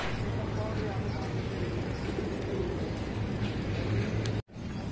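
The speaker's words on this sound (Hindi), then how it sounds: "ये देखिए, ये है कबूतर," White pigeons in a large cowshed shelter coo softly and repeatedly, blended into a steady low background murmur that continues until a brief dropout near the end.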